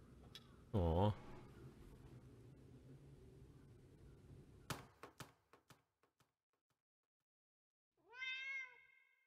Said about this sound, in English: I heard a cat too.